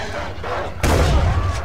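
Shotgun fire in the game Far Cry 4: a single heavy, loud blast goes off abruptly partway through and rings out over quieter ambient noise and low game sounds.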